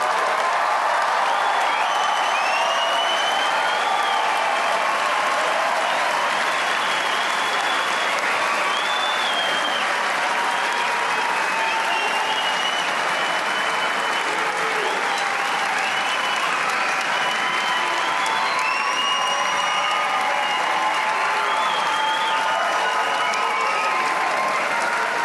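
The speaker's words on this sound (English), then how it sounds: "Let's give everybody another round of applause." Sustained applause from a large audience at a 2015 university undergraduate commencement ceremony. Steady, dense clapping fills the whole stretch without fading, with faint cheers mixed in.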